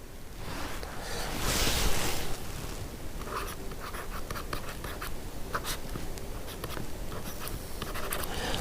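Chalk or marker scratches steadily across a classroom board while a maths problem is worked, a continuous close scraping with short rhythmic strokes and a slightly louder burst early on.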